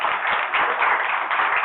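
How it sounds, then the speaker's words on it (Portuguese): A church congregation claps together in a steady, dense wash of applause that fills the space evenly throughout, with no voices standing out. "e quem recebe aplauda o Senhor"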